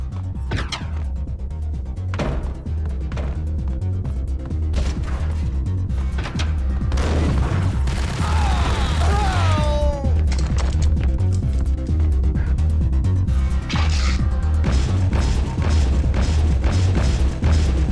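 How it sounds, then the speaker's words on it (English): Fireworks going off in the video game Max Payne: repeated sharp cracking bursts over a loud, steady low rumble, with a few whistling streaks midway, no speech. "The fireworks."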